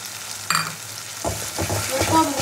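Ground spice paste with onion and tomato sizzles in hot oil as a spoon scrapes and stirs it, a sudden splash followed by several uneven stirring knocks over a steady low fry.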